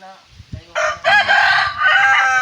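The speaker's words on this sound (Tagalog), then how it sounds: "Ang daming manok dito." A rooster crows loudly and close by, with scattered chicken clucks and farmyard noise underneath, at a farm hut.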